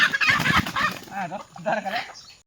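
A hen clucks in short, wavering bursts, fairly close and loud, with some voice-like murmuring mixed in before trailing off.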